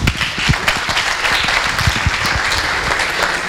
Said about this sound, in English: Mr. Kteni, please applaud him very much.